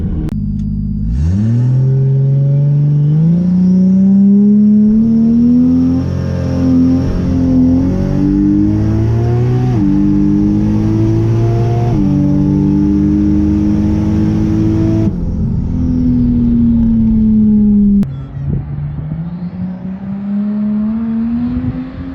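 Drag race car roaring on a nitrous pass, engine note climbing through gear changes with loud, sustained revving and a brief drop near the end, close and continuous with no talk.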